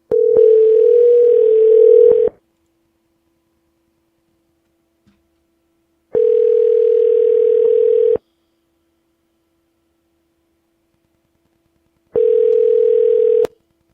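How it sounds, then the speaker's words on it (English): Telephone ringback tone on an outgoing call to a St. Louis real estate seller: three steady, loud two-second tones separated by about four seconds of silence, alone with no talking. "Let's call up Miss Leslie."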